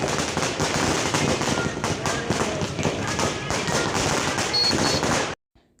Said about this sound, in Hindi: यहाँ पे ना पटाखे फूटने लग गए थे आगे